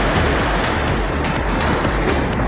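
Sea waves rolling onto the shore at Lhoknga beach in Aceh Besar, a steady broadband wash of surf with some wind, continuous and fairly loud with no voices.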